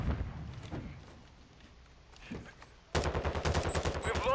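Rapid automatic gunfire in the video game Call of Duty: Modern Warfare II erupts loud and close in the second half, a dense burst after quieter battlefield rumble and thuds.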